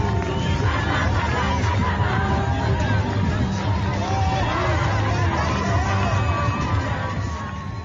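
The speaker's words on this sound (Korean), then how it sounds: "그 긴박한 상황 속에서도 일부 시민들은 춤추면서 환호하면서 이번 공격 상황을 지켜보고 있는 현장의 소리 들으셨습니다" Iranian citizens cheer and dance outdoors, making a dense crowd din of overlapping voices, shouts and occasional whoops that stays loud and continuous throughout.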